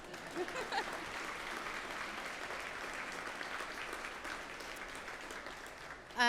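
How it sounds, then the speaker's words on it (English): Steady audience applause fills a room at a fire foundation sustainer breakfast at a heritage center venue, a dense, even wash of many hands clapping at moderate distance for several seconds. "You guys can applause now."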